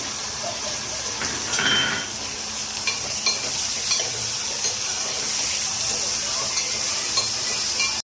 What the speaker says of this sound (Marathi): आपण टोमॅटो टाकून 1 मिनिट परतून घेऊया।